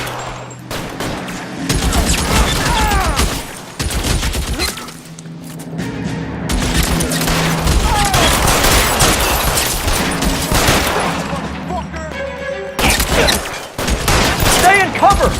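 Heavy gunfire in a shootout from LA Noire Remastered, loud bursts and rapid volleys with crashing impacts filling most of the clip, pausing briefly around the fourth and twelfth seconds, while shouted voices call out over the shooting.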